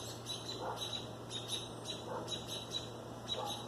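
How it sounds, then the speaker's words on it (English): Several birds call outdoors in faint, repeated high chirps scattered through the moment over a low steady hum, distant and quiet, with nobody speaking. "There's two birds communicating over there."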